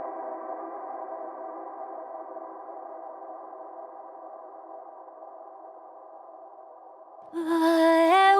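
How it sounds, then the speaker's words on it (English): A reversed vocal drenched in heavy reverb and delay swells as a long, smeared, sustained tone that slowly fades. It then gives way near the end to a louder burst of bright, gliding pitched sound. "so you have this reversed vocal with a lot of reverb and delay"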